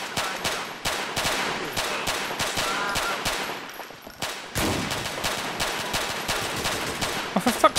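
Rapid automatic gunfire in GTA IV rattles in loud, dense bursts with short gaps, then resumes for another long volley.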